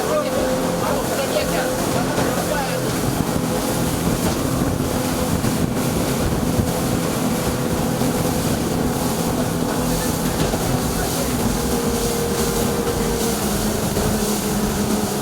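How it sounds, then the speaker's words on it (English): A fisheries boat with a combined 250 horsepower engine travels to Kia Island, giving a steady loud engine drone mixed with wind buffeting and water noise throughout, with a voice talking over it. "On board the fisheries boat with a combined 250 horsepower engine, the trip to Kia Island took 15 minutes."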